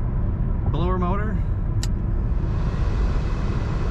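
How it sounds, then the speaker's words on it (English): Steady blower motor of a 1994 Mercedes-Benz E320 Convertible runs as a constant broadband whoosh in the cabin, with a voice speaking briefly over it near the start. "blower motor"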